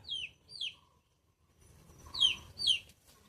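A lone chicken chick calls out with high, descending chirps, two in quick succession, then a brief pause and two more, clear and close over a quiet background.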